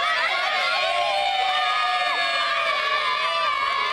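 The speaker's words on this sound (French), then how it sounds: "Le départ a été donné à 12h25 sous les applaudissements de la foule et des enfants de la commune présents pour l'événement." A crowd, with local children among them, cheers and shouts at the start of a cycling race. The high-pitched voices and whoops run as a continuous, lively din throughout.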